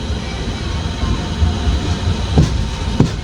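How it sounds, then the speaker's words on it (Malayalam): East Coast Railway box freight wagons roll past near Ratnagiri with a steady, loud rumble of wheels on rails. Two sharper knocks from the wheels stand out near the end. "Box and ഫ്രൈറ്റിൻ്റെ wagon."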